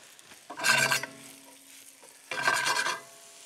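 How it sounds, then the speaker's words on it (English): Mushrooms sauté in a hot pan with two bursts of loud sizzling about a second or so each, separated by a quieter simmering hiss, close by and with no talk. "what we're going to do is just basically saute that"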